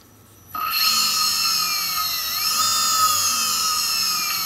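A Hyundai Sonata HSG interior permanent magnet electric motor, driven sensorless by a Lebowski controller at 190 volts, starts from quiet and whines up to a loud, steady high-pitched spin with tones drifting slightly as speed shifts.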